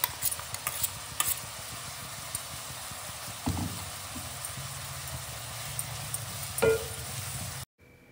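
Onions with ground mint, coriander and green chilli paste plus ginger-garlic paste being stirred in an open pan for vegetable biryani, with quiet scraping strokes and a soft, low sizzle, close and faint.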